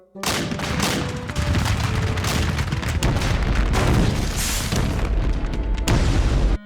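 A special cannon fires in a rapid run of heavy booms that crowd together into one continuous loud barrage, close and thunderous, with a final sharp blast near the end.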